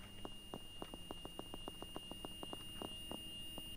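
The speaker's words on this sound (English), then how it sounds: "That's a motorcycle horn." A motorcycle horn in the Roblox video game sounds as a rapid series of short, faint, evenly spaced beeps over a steady electronic hum.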